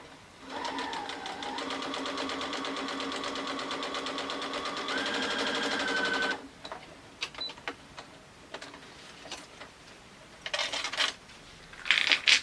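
A sewing machine stitches a zippered project bag with a lace-effect line guided by a flipped presser foot, running steadily for about six seconds before stopping, followed by scattered clicks and handling sounds.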